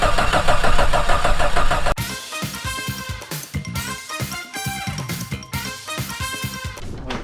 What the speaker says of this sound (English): I just need a little bit more cranking. Let's see. Let's try it one more time and see.